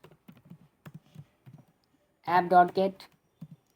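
Key clicks from coding on a computer keyboard, scattered taps at an uneven pace, broken by a short burst of speech before a last couple of keystrokes.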